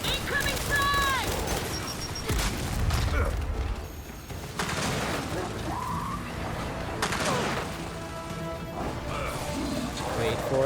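A frag grenade explodes amid heavy combat in Gears 5, a loud crashing blast within continuous gunfire, clanks and chaotic battle noise, with a voice calling out over the din.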